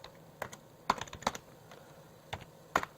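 Irregular keystrokes on a computer keyboard while a layer name is entered in Rhino 3D modeling software, a few scattered clicks then a quick burst of taps, close and fairly quiet with no talking.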